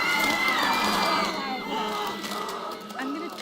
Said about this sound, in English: the crowd around her became louder. It started whistling and roaring and growling.